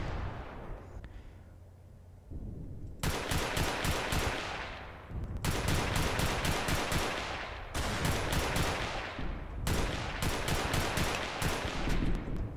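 Rapid automatic gunfire in the Roblox video game, repeated loud bursts of fast shots with brief gaps between them, dense and close throughout.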